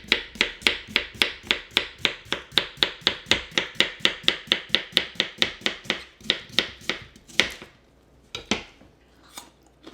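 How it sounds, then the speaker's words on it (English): A knife chops through a peeled cucumber on a cutting board in a home kitchen, about two dozen quick, even, close-up strokes. The chopping slows and turns sparse toward the end. "I'm going to go ahead and peel my cucumber and slice it right up"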